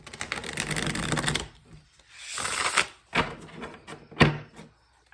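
A deck of cards riffled and shuffled in several quick bursts, close by, with brief pauses between each shuffle and no talking.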